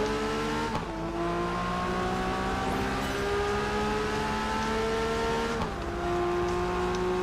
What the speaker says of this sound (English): Corvette's just overtaking me.